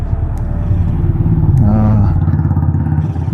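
A motorcycle cruises along a highway toward Delhi, its engine droning loudly and steadily up close with wind rumble and passing traffic noise.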